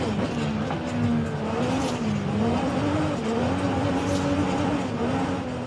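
Toyota GR Supra engine in Forza Horizon 5, driven off-road: a steady, continuous engine drone whose pitch wavers up and down, loud and close throughout with constant rumbling noise.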